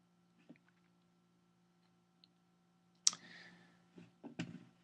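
A computer mouse clicks to save a page, giving a few faint isolated clicks followed by a sharper click and brief soft shuffling, close and quiet with no talk.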